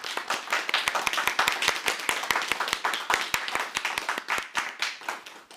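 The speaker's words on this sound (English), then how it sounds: "please join me in giving a round of applause to all of our speakers" A small audience claps for the speakers at a session on gender equality, a sparse round of distinct, fairly close handclaps from a modest group, steady for several seconds with no talking.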